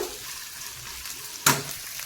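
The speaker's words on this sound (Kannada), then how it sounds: "ನೋಡಿ ಎಲ್ಲ ಈಗ ಒಂದಿಷ್ಟು ಫ್ರೈ ಆಗಿದೆ" Onion and peanuts fry in a pan for peanut chutney, a low continuous sizzle with one sharp stir or scrape near the end, close and without talk.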